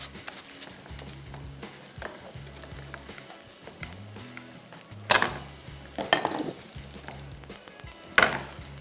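A chapati quesadilla cooks in a pan over heat with a faint, steady sizzle, broken by a few sharp bursts of louder frying and scraping as it is turned, and a low hum underneath.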